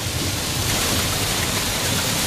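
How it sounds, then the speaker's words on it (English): Heavy monsoon rain roars in a dense, constant hiss, pouring down steadily and close by throughout, with no distinct thunderclap and no voices. "Monsooning, it's lightning."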